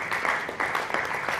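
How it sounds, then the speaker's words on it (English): Audience applause at a live session, a steady wash of many hands with a few sharper claps standing out, continuous and moderately loud throughout. "So please, once again, a round of applause for"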